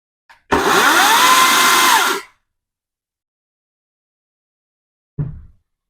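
Cordless battery chainsaw with a 14-inch Oregon bar and chain revs up loudly for about two seconds and cuts off abruptly, followed by silence and then a short low thump.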